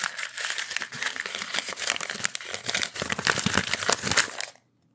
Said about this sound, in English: Open that envelope.